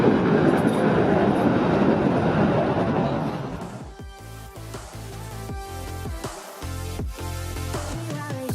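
A classic tram clatters past on rails in Budapest, loud broadband rumble fading after a few seconds into rhythmic clicking and squealing wheel noise.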